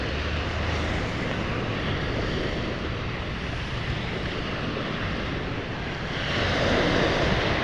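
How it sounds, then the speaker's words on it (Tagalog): Strong waves wash against the shore of Manila Bay, which is thick with garbage, making a continuous broad rushing roar mixed with wind buffeting the microphone and swelling louder near the end. "pakinggan natin yung ano ng alon, yung sounds niya ba"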